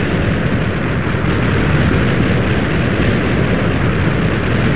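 TNT drill bombs go off in Minecraft as a continuous, dense roar of overlapping blasts. The loud rumbling explosions run unbroken from start to finish with no talking.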